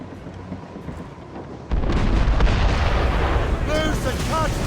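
Mortar and cannon fire from a naval battle in Assassin's Creed Rogue, with a sudden loud roaring burst of booms and rumble after a quieter stretch, then whistling projectile tones over sustained battle noise.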